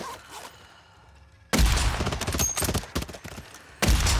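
Gunfire in a sniping-focused shooter video game: after a quiet start, a loud, sustained burst of rapid shots breaks out and fades, then another sharp volley hits right at the end.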